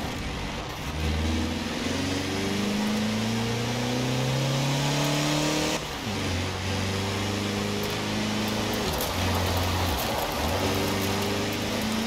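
A Toyota Land Cruiser Arctic Truck engine revs at full throttle, a loud continuous droning roar with repeated rising pitch sweeps as it strains, close and alone without talk.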